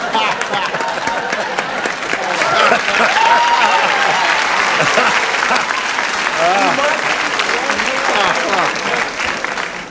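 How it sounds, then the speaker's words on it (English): Studio audience on a game show applauds loudly and steadily, a dense wash of clapping with cheers and voices mixed in that swells after the first couple of seconds and holds throughout. "Applause, applause, applause."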